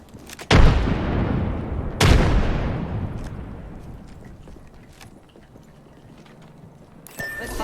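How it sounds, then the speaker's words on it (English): Two loud booming blasts from a frag grenade and gunfire in a video game, each decaying slowly into a rumbling tail, followed by quieter distant shots and a sharp burst near the end. "Frag out."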